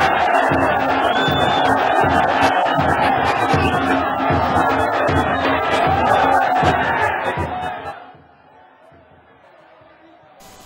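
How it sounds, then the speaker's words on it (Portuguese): Sertãozinho supporters at a football match against Rio Claro chant olé, a dense, loud stadium crowd roar for about eight seconds before dropping sharply to quiet background murmur. "a torcida do Sertãozinho até ensaiou um grito de olé para o Rio Claro"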